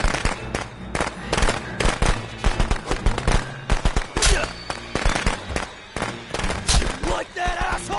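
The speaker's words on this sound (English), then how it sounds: "Firecrackers stun him, so he can't really move, and it gives you some time." Rapid bursts of firecrackers pop in the Friday the 13th video game, dense loud crackling volleys repeating close together for several seconds.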